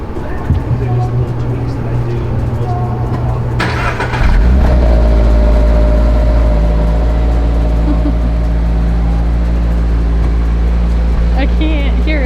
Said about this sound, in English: You just hear the engine noises.